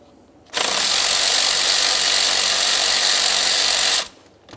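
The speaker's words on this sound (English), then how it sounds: "Let's loosen the pair. There we are. Do the same over here." A power tool loosens 10mm alternator mounting bolts on a 2004-2008 Ford F-150 with a 5.4L V8, one loud sustained whirring burst of about three and a half seconds that starts and stops abruptly, with quiet before and after.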